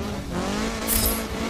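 Race car engine in Forza Motorsport 7 drones loud and close with a steady tone, briefly rising with a high tire squeal, and no voices over it.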